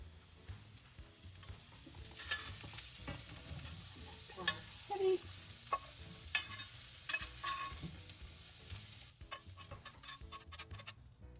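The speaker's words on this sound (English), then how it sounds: "We're just going to add celery over into the meat." Celery stirred into frying beef in a pot for Persian celery stew, a quiet, low sizzle with intermittent spoon scrapes and taps, fairly faint and uninterrupted by speech.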